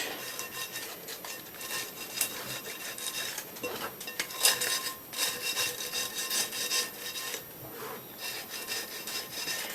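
Steady scraping and rubbing of sandpaper removing still-tacky paint, continuous with rhythmic strokes, close and fairly loud, with no talking.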